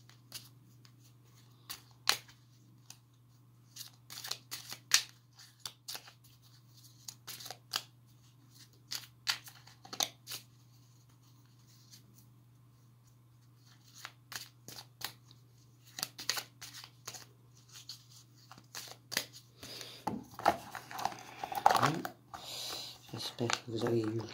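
Tarot cards shuffled by hand in repeated bursts of riffling and sliding, close and fairly quiet over a steady low hum, with busier handling toward the end and no talking.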